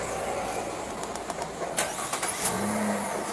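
A car's engine starts and the vehicle moves off during a roadside parking-citation stop, a mid-range engine hum under street background with a few sharp clicks and knocks, no talking.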